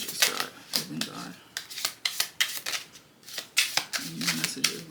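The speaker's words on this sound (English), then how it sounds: "Okay, I'll do one more shuffle." Tarot cards being shuffled by hand in quick riffling bursts, close and crisp, with brief pauses between each flurry of card slaps and soft talking in between.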